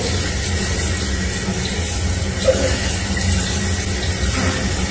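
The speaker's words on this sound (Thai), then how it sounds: "ตอนนี้น้ำซึมออกตรงนี้" Water seeps from a pipe joint left without thread seal tape, making a steady, fairly loud rushing hiss close by that barely changes, with no talking.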